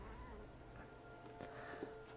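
A cat meows in the video game What Remains of Edith Finch, a short faint cry against a steady ambient game background.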